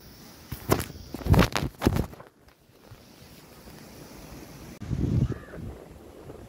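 Strong wind rushing through towering trees along a forest road near Kodaikanal, with loud roaring gusts surging in quick bursts, a brief lull, then another heavy swell of rustling air.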